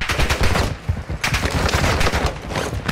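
Rapid automatic gunfire in the game Warzone, loud dense bursts of fast shots with a brief lull in the middle, no talk over it.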